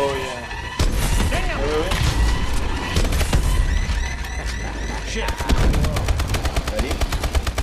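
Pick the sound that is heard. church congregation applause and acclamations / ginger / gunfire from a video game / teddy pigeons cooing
gunfire from a video game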